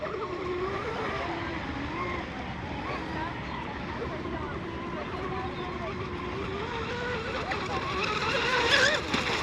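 Small fiberglass-hull RC boat running on water while it climbs onto plane, its steady buzzing motor whine and hull wash continuing throughout and swelling near the end, with voices talking over it.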